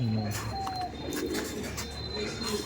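Soft coos from a white pigeon sound close by amid light background noise, with faint chirps from other birds.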